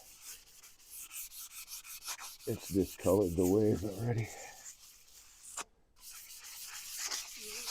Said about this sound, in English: So circular sanding